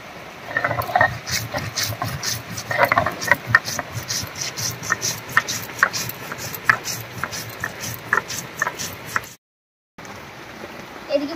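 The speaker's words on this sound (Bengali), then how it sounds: "এবারে 1 চামচ গোটা ধনিয়া আর 1 চামচ গোটা জিরা একসঙ্গে করে বেটে নেব।" One spoon each of whole coriander and cumin seeds is ground together, giving a close, gritty, rhythmic crunching and scraping that pauses briefly near the end.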